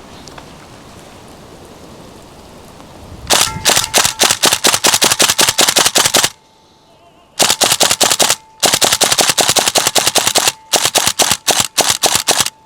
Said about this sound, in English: I activated the dry fire mode and fire at a constant rate.